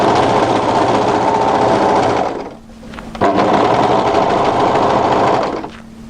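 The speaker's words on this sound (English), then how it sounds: "And then I'm going to overlock that up to the shoulder." Overlocker running steadily as it stitches a garment seam up to the shoulder, a loud continuous mechanical whir for about two seconds, a brief pause, then a second long burst before stopping.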